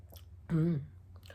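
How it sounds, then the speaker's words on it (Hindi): A single short slurping sip of hot tea, close and distinct, with quiet room background before and after. "चलो चाय की पहली चुस्की लेते हैं।"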